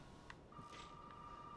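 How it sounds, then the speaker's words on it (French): A landline telephone ringing in the Resident Evil 7 video game, a faint, steady electronic ring tone that starts after a brief click and holds to the end. "Ah bah c'est le téléphone, je suis bête, c'est le téléphone fixe."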